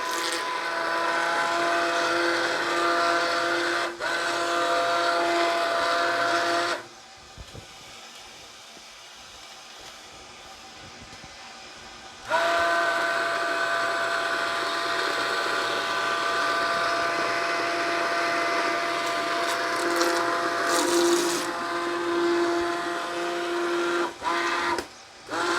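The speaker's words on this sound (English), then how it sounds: "It's a good couple of minutes of pureeing." A blender purees bacon and other ingredients until smooth, a loud steady motor whir that drops away for several seconds midway, then resumes just as strongly to the end.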